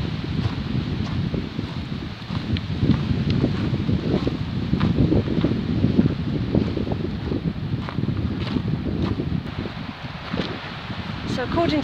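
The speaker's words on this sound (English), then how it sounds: "It's so windy here." Strong coastal wind roars steadily at the shore of Sunderland Point, buffeting the microphone with a constant low rumble and gusty rustling throughout, with no clear voices over it.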